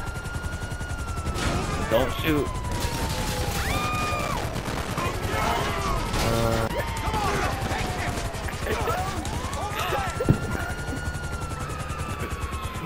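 Helicopter in the GTA 5 video game, a steady rotor drone running through the whole scene under shouting voices, with bursts of gunfire and a sharp crash near the end.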